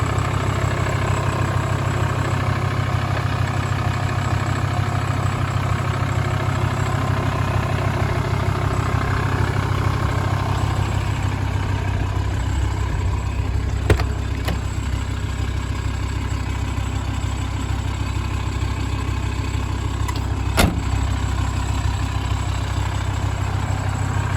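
Volkswagen Transporter T4 van with a 2.5 TDI ACV 75 kW diesel engine idling steadily, a constant low rumble close by with no talk and a couple of brief clicks.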